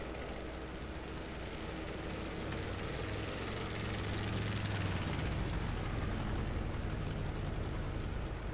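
An FW-190 fighter engine in a flight simulator game drones faintly and steadily, its tone shifting downward midway as the aircraft passes by.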